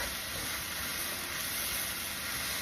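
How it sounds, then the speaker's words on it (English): Mushrooms sautéing in a karahi, a steady soft broadband hiss and sizzle running without a break at moderate level, with no voices. "Just saute the mushroom"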